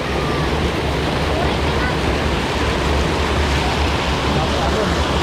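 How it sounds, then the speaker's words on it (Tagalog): Strong, churning water at Mayang Falls in Cavite, Philippines, a loud, continuous broadband roar close to the microphone, with wind buffeting and faint voices mixed in. "Lakas ang alon."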